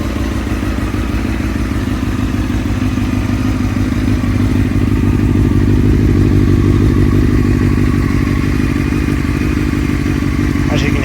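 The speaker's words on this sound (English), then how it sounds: "then I'll rev it a bit so that you can see that" A Honda CBR954RR Fireblade motorcycle engine runs loud and close with a steady, throbbing, even-pulsed drone that holds a constant pitch throughout, with no clear rise in revs.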